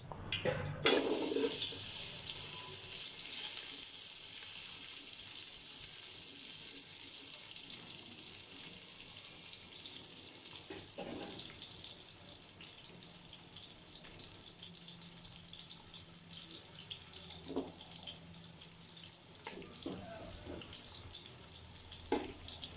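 A cup of onions dropped into hot oil for beef pulao, an intense hiss of frying that starts abruptly and then settles into a steady loud sizzle, with a few clattering stirs, and no talk.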